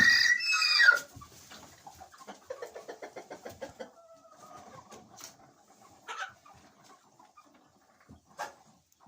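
Chickens clucking in a henhouse while dust-bathing in ash, a rhythmic run of close clucks and soft calls after a brief louder squawk at the start, quiet between, no talking.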